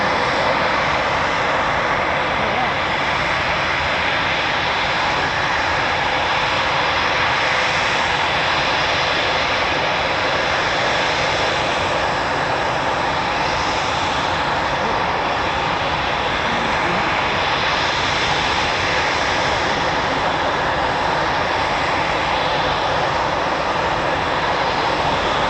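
Eurofighter Typhoon FGR4 jets at RAF Coningsby roar continuously with a loud, sustained engine rumble and hiss that swells slowly, heard from the airfield side with no talk.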